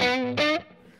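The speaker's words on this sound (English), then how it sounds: "Then I've got one level of distortion with it." Two brief sustained electric guitar chords ring out through stacked overdrive pedals including a Boss Blues Driver, the first longer, the second cut short, then a quick fading tail.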